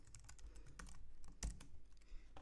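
Quick typing of JavaScript code on a computer keyboard, a dense stream of soft, close key taps over a low background hum.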